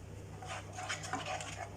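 A spoon scrapes and swirls through a Dominostein baking mixture in a bowl, soft, continuous stirring with light clinks against the sides, quiet and close.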